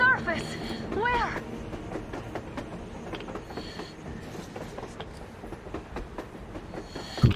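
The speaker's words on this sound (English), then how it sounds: "A train! A damn train on the surface!" A train rolling along rails in Metro Exodus, a continuous rumbling clatter with faint rhythmic wheel clicks, heard at moderate distance under a speaking voice.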